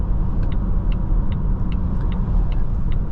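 A 2023 Volvo XC60 T8 Recharge plug-in hybrid SUV coasting down smoothly from about 55 mph, a steady low road and tire rumble from inside the cabin, with a faint repeating chime-like ticking above it.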